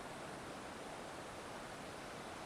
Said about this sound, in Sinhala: මෙතනින් තමයි පල්ලෙහාට වතුර ටික ගලාගෙන යන්නේ.